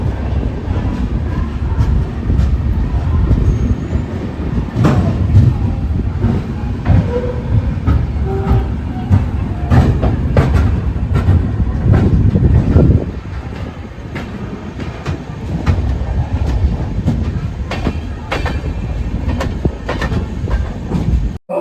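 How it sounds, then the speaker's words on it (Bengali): The Sealdah–Puri Duronto Express runs at speed toward Puri station, heard from on board as a loud, steady rumble with rhythmic clickety-clack of wheels over rail joints, easing slightly near the end. "তো ট্রেন আমাদের নিয়ে যাক পুরী স্টেশনে"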